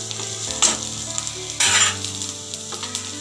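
Onions, green chillies and curry leaves fry in a pan for ragi dosa, a steady close sizzle with two louder bursts of stirring scrape near the start and middle, no voices.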